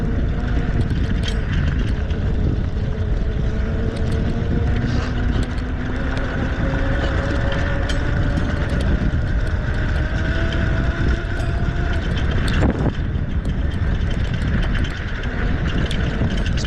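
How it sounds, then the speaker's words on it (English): Tuttio Soleil 01 motorbike riding off-road on a dirt trail, its steady engine drone rising and falling with heavy wind rush and rumbling over the rough ground, loud and close throughout. "This bike does a little better than I would think off-road."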